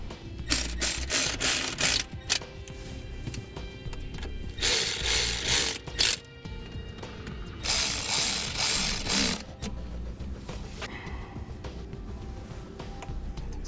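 Ratcheting and mechanical clicking while a Tekonsha Prodigy P3 trailer brake controller is mounted in a 2016 Mercedes-Benz, close bursts of rapid ratchet clicks separated by pauses and quieter handling noises.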